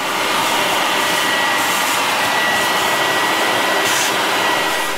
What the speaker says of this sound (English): Now we gotta vacuum it out, so vacuum assistant!